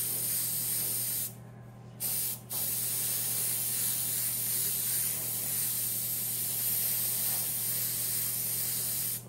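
An airbrush hisses a continuous fine spray of paint onto a Harley-Davidson, laying down a Jack Daniel's logo, with two brief pauses in the spray and a steady hum beneath.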